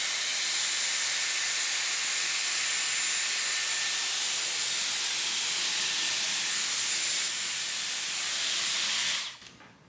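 A Dyson Airwrap hair styler blowing hot air, a steady loud high-pitched whooshing hiss with a faint whine, held constant for several seconds before shutting off at the end.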